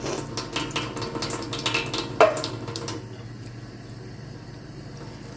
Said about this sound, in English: And water's coming out there as well.